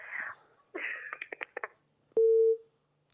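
After a disconnected call, a steady telephone busy tone sounds loud and close for about half a second, following stretches of muffled whispery talk.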